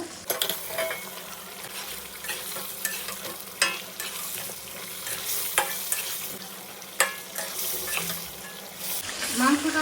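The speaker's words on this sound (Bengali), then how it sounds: "মশলাটা কষিয়ে নিয়ে এখন আমি দিয়ে দেবো হচ্ছে মাংস" Meat sizzles in a pan with spices as it is stirred, scraping and clinking of the utensil over a continuous frying hiss, close and fairly loud.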